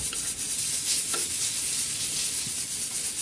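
Garlic sizzling in hot oil with ginger as mussels are cooked, a steady close frying hiss with a faint stir or two.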